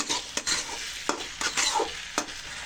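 Bean peels mixed with salt are stirred in a sizzling pan, with a spatula scraping in repeated sharp strokes over a continuous frying hiss, close and clear with no talking.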